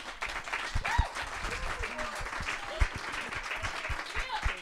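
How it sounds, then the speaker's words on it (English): A crowd at a Bandustry and MTV Base panel event applauds the panelists. The clapping is loose and uneven, with sharp individual claps and scattered cheers and voices mixed in under the steady patter. "A big round of applause to them."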